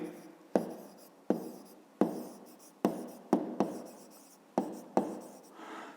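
A pen writing down a maths answer, heard as eight sharp, evenly spaced strokes, each a crisp tap trailing into a short scratch, close and alone.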